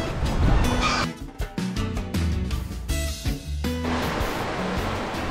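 Loud rushing water surges and sloshes against a sailboat's hull in heavy bursts at sea, with thumping knocks and creaks in between and no voices.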